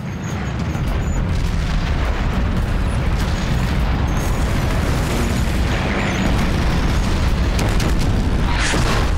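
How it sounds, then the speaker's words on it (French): A Russian artillery barrage on a World War II tank battlefield pounds without pause, a dense, loud, rumbling roar of overlapping explosions filling the whole stretch. "Puis les Russes ont commencé un barrage d'artillerie incroyable."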